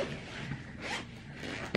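A clothing zipper that was previously broken and repaired being pulled, a quick rasping zip up close, ending with a short sharp catch.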